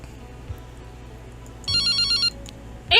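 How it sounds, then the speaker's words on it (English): A cell phone ringtone chimes inside a horror video game, a bright repeating electronic melody of short notes that starts suddenly over quiet ambience and lasts under a second. "It's my cell phone."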